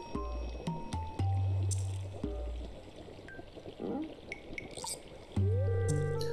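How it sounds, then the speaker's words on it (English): A wizard's cauldron in the Stardew Valley video game bubbles and gurgles with liquid drips and pours, mixed with tonal game chimes and music, with some speech-like sounds scattered through. "My cauldron is bubbling with ingredients from the forest."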